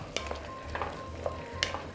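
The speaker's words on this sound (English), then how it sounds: "Give this tiny stir, and now the wine." Stirring a wild game stew in a pot during Polish home cooking, with a soft sizzle and a few light scraping spoon strokes at a steady, unhurried pace, close and fairly quiet, with no one speaking.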